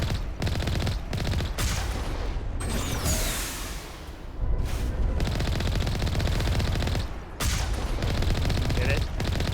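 Video game gunfire rattles in rapid automatic bursts, with short gaps between volleys and a whooshing sweep in the middle, under a speaking voice.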